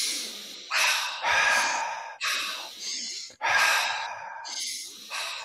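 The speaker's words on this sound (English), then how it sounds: "Now we're gonna go double time. So inhale, exhale," Rapid, forceful breaths in a breathing exercise, a close, loud series of strong inhales and exhales in an even, quick rhythm.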